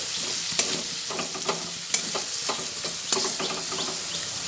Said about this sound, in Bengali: টমেটো কুচিয়ে রেখেছি সেই টমেটোটাও দিয়ে দিলাম আবার ভালোভাবে নাড়াচাড়া করে নিচ্ছি